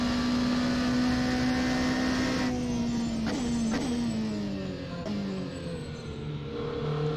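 Simulated engine of a Scuderia Glickenhaus SCG 007 race car in the Assetto Corsa racing game, droning loudly at steady high revs, then dipping and climbing through a few gear changes, with no talking.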